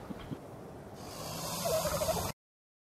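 A bird creature in ARK: Survival Evolved gives a gobbling, turkey-like call that rises over steady game background noise and then cuts off abruptly, with no talking.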